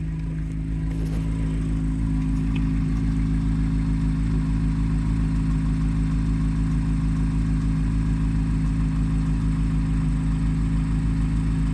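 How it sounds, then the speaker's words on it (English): A Corvette C8 Z06 with 45,000 miles idles with a steady, close-up engine drone, a faint mechanical ticking riding over the constant low hum. "You guys want to hear a ticking motor?"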